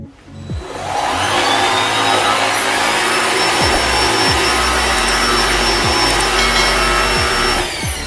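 A Black+Decker BHFEA520J vacuum cleaner switches on and runs with a loud, steady roar and high whine, its tone shifting slightly as it moves back and forth.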